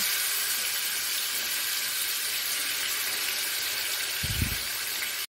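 Chicken fries in hot oil with a continuous bright sizzling hiss, broken near the end by a brief low thud from the pan.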